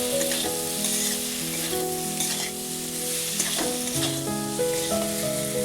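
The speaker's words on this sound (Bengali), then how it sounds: "মশলার সঙ্গে আমি আলুগুলো দিয়ে দিলাম।" Potatoes fry with spice paste in a pan, a steady sizzle running under continuous background music with a few soft stirring scrapes.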